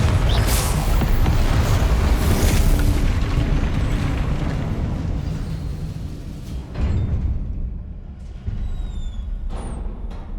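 Confringo blasting-curse explosions in Hogwarts Legacy, loud deep booms with rumbling tails that fade, followed by a couple of sharper later blasts.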